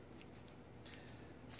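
Quiet, crisp snips of scissors mincing parsley, several short clicks spaced irregularly over a faint background hum.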